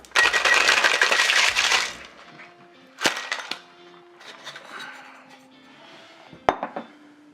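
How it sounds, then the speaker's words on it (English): A cocktail shaker filled with ice rattles hard for about two seconds while a Jamaican milk punch is mixed. Scattered clinks and sharp knocks of glass and metal follow, heard close with no talk. "now all we need to do is get some ice in our shaker and shake this thing up"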